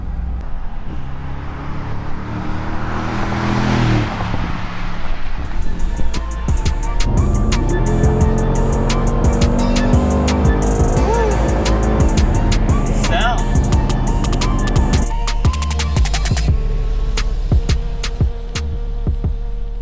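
A 2019 Mercedes G63 G-Wagon with its 577-horsepower engine accelerates hard, a loud sustained drone rising in pitch from inside the cabin, with speech over it.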